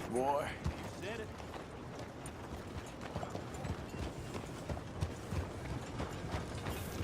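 Horse galloping in Red Dead Redemption 2, a steady rhythmic run of hoofbeats mixed with game ambience, with voices speaking briefly at the start.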